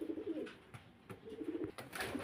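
A pair of silver Lahori pigeons coo softly in short, repeated low-pitched bursts, faint and close, with light rustling between the calls.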